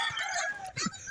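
A rooster crows in a short, noisy burst, its call partly masked by broadband background noise and close to other sounds.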